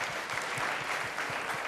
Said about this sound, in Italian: Ancora un applauso per Christian.